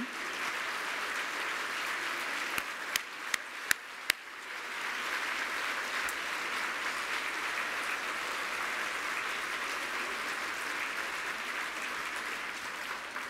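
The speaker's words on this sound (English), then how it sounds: "I wish she was here to see you all standing and to hear you clapping" Steady, sustained applause from a standing audience at an awards ceremony, a dense continuous wash of clapping heard from a distance, with a few sharper nearby claps standing out briefly.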